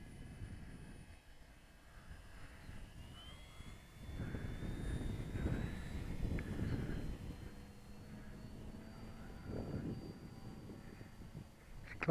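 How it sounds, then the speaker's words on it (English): A lightly loaded RC model airplane, a Dancing Wings Cute Girl on its maiden flight, climbs at full throttle, its small engine droning at middle distance and swelling louder midway before easing off, with a faint whine over outdoor ambience. "Climbs on full throttle, look at that."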